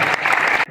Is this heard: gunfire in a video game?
no